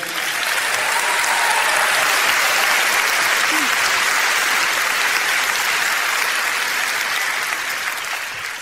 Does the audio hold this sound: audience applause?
yes